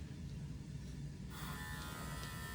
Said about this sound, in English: Clipper blades are on.